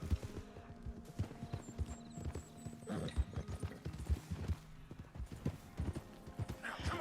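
Hooves of a Missouri Fox Trotter horse clop in a quick, uneven rhythm across the ground, fairly faint and mixed with some soft rustling.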